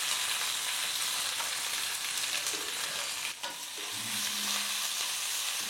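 Curry leaves, grated ginger, green chili and asafoetida sauté in hot oil in a pan, giving a loud, dense, steady sizzle with a brief dip in the middle and a few light stirring clinks. No speech.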